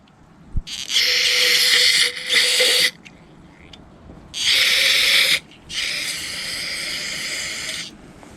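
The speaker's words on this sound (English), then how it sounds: "Doing a ton of carb spray here" Loud bursts of carburetor cleaner spray hiss in four long blasts into a Honda Harmony HS520 snowblower carburetor, separated by brief pauses, close to the listener, with no talking.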